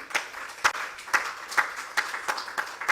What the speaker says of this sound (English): I want you all to give them a round of applause for that